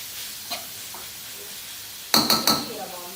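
Beef stir-fried with shrimp and squid in a pan, heard as a soft steady sizzle with a burst of three quick metallic spatula scrapes and clinks near the end.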